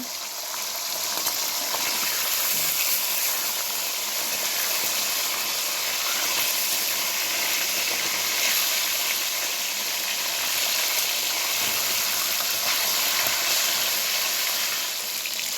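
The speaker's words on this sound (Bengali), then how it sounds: "মাছের মাথাগুলোকে তেলের মধ্যে দেওয়ার পর আমি উল্টে পাল্টে মাছের মাথাগুলোকে লাল লাল করে আমি ভেজে নেব।" Rohu fish heads fry in hot oil, turned until reddish, giving a steady, close sizzle that holds even across the whole stretch with no voices over it.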